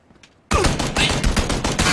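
Automatic gunfire in the video game PUBG, a sudden loud burst of rapid, closely spaced shots that continues without pause after a brief quiet moment.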